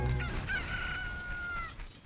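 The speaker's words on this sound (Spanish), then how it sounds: "todavía no canta el gallo" A rooster crows at dawn in the video game Ocarina of Time, one long clear cock-a-doodle-doo standing alone with a faint ambient game backdrop.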